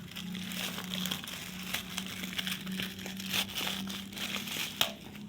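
Plastic packaging being torn open from a newly bought book, heard as close, fairly quiet crinkling and crackling with brief sharper rips scattered through.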